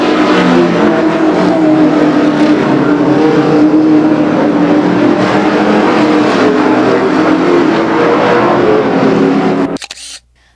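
Stock cars race at Raceway Park in Blue Island, engines roaring loud and continuous as the pack passes, then cutting off abruptly near the end.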